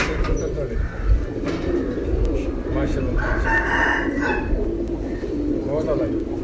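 Pigeons coo softly among a loose flock kept at a house in the Punjab, their low burbling calls steady in the background while people talk over them.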